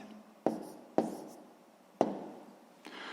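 Chalk on a classroom board during a sixth-grade maths lesson, four sharp taps and short strokes spaced unevenly, quiet and close with no talking.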